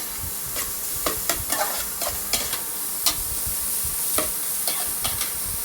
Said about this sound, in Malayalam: നല്ലപോലെ ഒന്ന് മിക്സ് ചെയ്ത് ഇളക്കി കൊടുക്കുക.